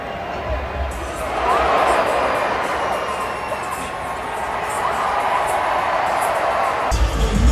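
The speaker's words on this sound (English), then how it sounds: "And the crowd was loving it." A large WWE Raw arena crowd cheers steadily throughout, a broad continuous roar of many voices that swells slightly after the first second and holds loud to the end.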